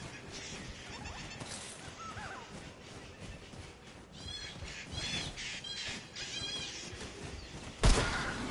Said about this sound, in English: I wasn't sure if those birds actually existed or not.